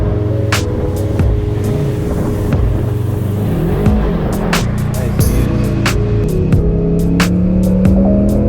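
A Ford Mustang GT drives along at sunset, its engine a loud, steady rumble that holds throughout with slight swells in pitch, no voices over it.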